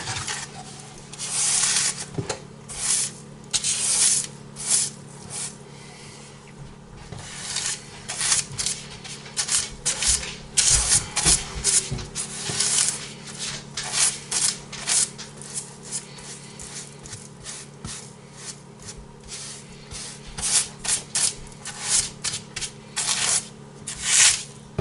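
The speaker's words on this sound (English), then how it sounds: "I brush it off and then rub the remaining in." Bristly brushing and rubbing of a pumpernickel seed blend into caraway rye bread dough, a steady run of scratchy, papery strokes in irregular bursts, close and fairly quiet, with no talking.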